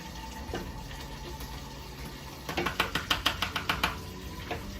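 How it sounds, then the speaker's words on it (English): Spoon stirring water for sweet tea in a container, a run of rhythmic clinking taps against the sides, about ten quick strokes close by after a quiet start. "keep stirring."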